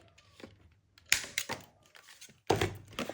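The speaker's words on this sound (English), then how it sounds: "Fold the box on the middle score line and then round the corners." Paper treat box being folded along its middle score line and its corners rounded, heard as a few sparse, close, quiet taps, creases and soft thunks separated by brief pauses.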